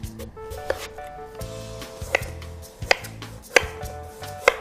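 A knife cuts through firm, raw jicama on a board, giving several crisp, sharp chops spaced irregularly and close up, with a soft background hum and no talking.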